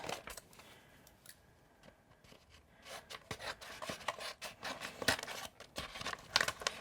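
Scissors snip and crinkle through a sheet of transfer tape for a Cricut Explore Air 2 project, close and quiet, with irregular sharp cuts and rustling that grow busier toward the end.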